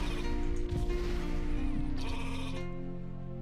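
Sheep bleat loudly in the video game Rain on Your Parade, with a long wavering bleat near the start and another toward the end over steady game sound.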